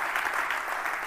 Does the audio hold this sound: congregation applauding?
yes